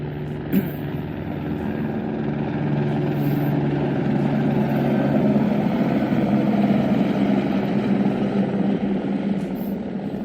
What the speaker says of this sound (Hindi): ये देखो सुबह सुबह हेलीकॉप्टर सेवा स्टार्ट हो गई है